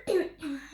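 A ten-year-old child with a respiratory infection gives a short throaty cough, two quick close bursts, faint and alone.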